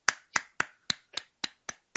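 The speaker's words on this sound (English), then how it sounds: "are you slow clapping me" Eight sharp, evenly spaced hand claps at a moderate pace, each crisp and close with a quick decay, heard alone without talk.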